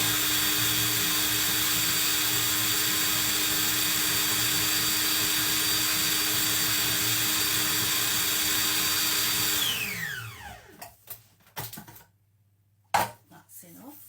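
A food processor pulses scone dough mixture in a loud steady whir for about ten seconds, then spins down and stops, followed by a few brief bumps and clatters.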